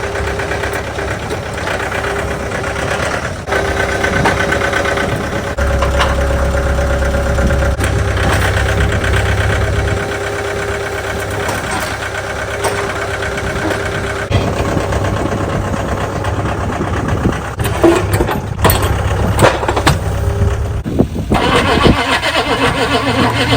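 A cold-soaked 6.5L diesel engine in extreme cold, left sitting outside, turns over and settles into a loud, steady, rough idle that runs continuously up close, with no talk over it.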